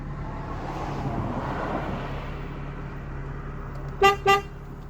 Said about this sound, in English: Horn we have, just open the window so you can hear it.